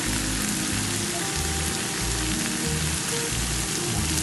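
Onions sautéing in a pan while cooking ostrich egg scrambled eggs give off a steady, dense frying sizzle, close and continuous with no talking.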